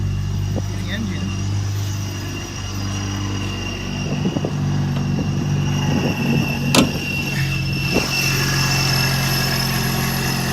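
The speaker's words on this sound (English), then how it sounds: "let me turn it on for you. The Supercharged V6, that is." A supercharged V6 engine in a custom SXT car idles with a loud, steady low hum, while a voice talks over it and a few clicks and a door-like knock come near the end.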